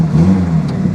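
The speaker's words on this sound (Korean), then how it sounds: "시동이 걸리는 거였어." A restored vintage Hyundai Pony Coupe engine runs with a steady, loud, low drone close by, holding an even pitch without a clear rev.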